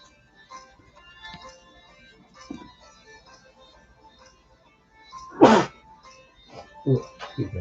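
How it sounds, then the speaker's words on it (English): A single sharp sneeze bursts out close and loud near the middle, standing out against quiet room sound and soft, sparse background noises before and after. "Sneezing like crazy."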